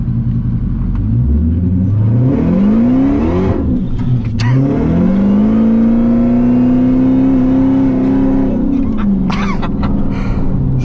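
A car with a boost controller set to race mode, its engine revving and accelerating loudly and close by, with the pitch climbing, dipping and rising again in a continuous roar.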